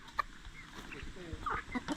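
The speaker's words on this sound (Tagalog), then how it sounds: "Yan pong pitong inahin. Nangingitlog na po yan." Seven laying hens cluck softly in short, scattered calls, fairly close, over a faint background murmur.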